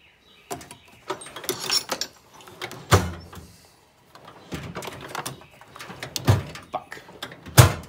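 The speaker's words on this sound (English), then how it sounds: "Drawers." Drawers open and close in a knife maker's workshop, with repeated rattling slides and sharp thuds as they are pulled and pushed, close by and busy over several seconds, with brief speech in between.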